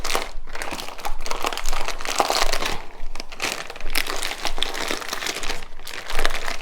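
Hashbrown casserole ingredients get squished and mixed by hand inside a plastic bag, giving continuous close crinkling and crunching of plastic with brief pauses between squeezes.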